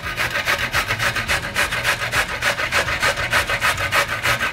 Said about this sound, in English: We're just gonna grate them.